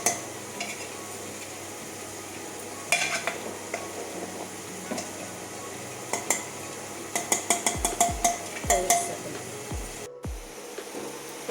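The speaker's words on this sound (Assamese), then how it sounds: "গৰমে গৰমে লৰাই দিব লাগে নহ'লে তলৰখিনি বেছিকৈ সিজি যাব" Hot chicken pulao is stirred in a metal pot, producing scattered scrapes at first and then a quick run of sharp spoon clanks and scrapes against the pot over a soft background sizzle.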